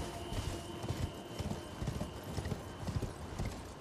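Horse hooves clip-clop in a steady, rhythmic gait from a summoned mount in Elden Ring on PS5, fairly quiet and continuous over faint game ambience.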